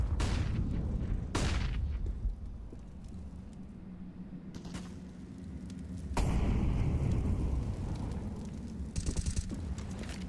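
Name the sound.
grenade explosions in Counter-Strike: Global Offensive (video game)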